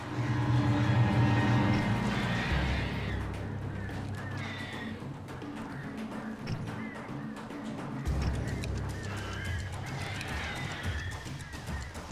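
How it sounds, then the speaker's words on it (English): Birds in the Alan Wake Remastered video game honk and call over a dense rumbling game soundscape, with scattered squawks rising now and then through steady ambient noise. "Birds."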